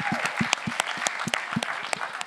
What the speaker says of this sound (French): On peut l'applaudir, Jessie